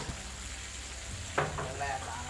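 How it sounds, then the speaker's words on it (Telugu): Chicken leg pieces fry in a pan over a low flame, giving a steady soft sizzle and crackle with a brief louder spatter midway, no speech. "5 మినిట్స్ ఈసారి సిమ్లో పెట్టి వేయించుకోండి."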